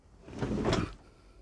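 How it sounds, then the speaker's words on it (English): A door on a VW Crafter or Sprinter DIY camper van conversion is pulled shut, giving one soft, muffled thud with a brief rattle, heard close and alone at moderate level. "I'll just shut this door up"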